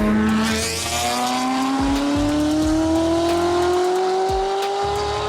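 A Ferrari 360 sports car engine revs loudly and steadily climbs in pitch as it accelerates, with a close, roaring exhaust note throughout.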